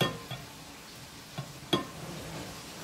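Chicken wings fry in hot oil with a faint, steady sizzle, broken by a few soft pops and crackles.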